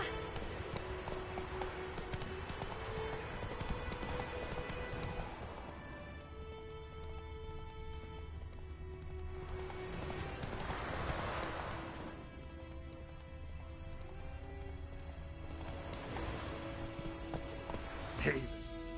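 Horse hooves clip-clop in The Witcher video game, a continuous rhythmic galloping patter under game music and ambient sound, moderately close.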